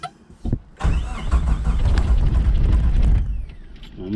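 Abandoned Suzuki Samurai engine cranking without catching, a few brief clicks and a short whir before the starter grinds continuously for about three seconds, loud and close, then winds down.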